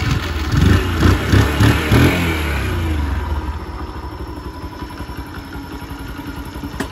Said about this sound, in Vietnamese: Rồi đem nổ máy cho anh em nghe nha